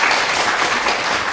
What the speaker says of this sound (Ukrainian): Жаль, что он в Австралии не услышит наших аплодисментов.